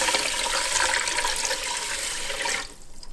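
Two cups of water pour into the pot of a Ninja Speedi over one cup of uncooked white rice, a bright continuous splashing gush that cuts off near the end, leaving a faint trickle.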